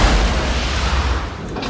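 An explosion from the Apollo 13 film, a sudden blast inside the spacecraft's circuits, heard as a loud, dense low rumble that holds steady for under two seconds with no speech over it.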